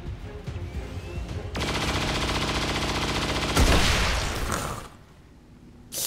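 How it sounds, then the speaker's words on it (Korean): Saturation-fire machine-gun burst in the XCOM 2 video game: a sustained, loud rapid-fire stream of shots runs for about two seconds, then a heavy blast-like crack and fading rumble, with no talking. "자, 멋있게 포화 사격."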